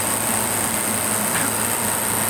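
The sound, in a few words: air conditioner compressor running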